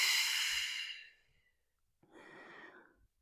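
Deep breathing during a bedtime stretching twist: a long, breathy exhale fades out, then after a short pause a softer, audible inhale follows, close and with no talking.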